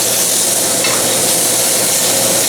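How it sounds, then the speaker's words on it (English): Pork shoulder seasoned with salt and pepper sizzles loudly and continuously as it browns in a hot pan, a dense close crackling hiss with no voices. "By browning it, you get a better flavor"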